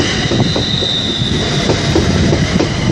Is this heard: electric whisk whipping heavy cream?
no